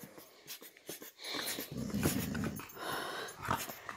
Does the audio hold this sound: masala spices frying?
no